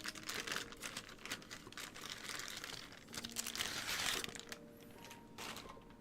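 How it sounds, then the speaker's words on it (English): Plastic bag wrapping a keyboard spacebar crinkles and rustles steadily and close up, with crisp crackles throughout and a few sharper crunches toward the end. "And then a plastic bag inside that sleeve."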